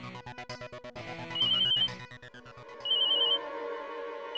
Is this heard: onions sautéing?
no